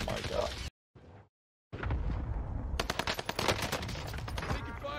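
Rapid automatic gunfire rattles in Call of Duty: Warzone on the Rebirth map, dense bursts crackling loudly after a brief dropout, with a player talking over the shooting.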